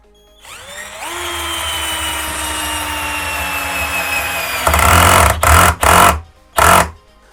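A WISH 48V cordless screwdriver spins up and drives a 4 cm screw, whining steadily and slowing as it works, then finishing with a few short, louder bursts of the motor.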